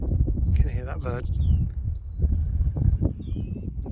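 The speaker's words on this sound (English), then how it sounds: "Can you hear that bird?" A bird's high, thin repeated whistling calls ring out in a quick series on a beach, heard over a voice talking nearby outdoors.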